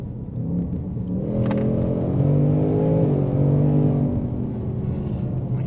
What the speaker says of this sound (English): the 10-speed on the Mustangs with a supercharger is absolutely nuts